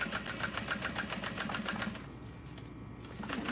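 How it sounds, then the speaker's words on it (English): A sewing machine stitches over bag handles, with fast, even needle clatter nearby that eases briefly in the middle before the rhythmic stitching picks up again. "when I sew over the handles, I add a few back stitches"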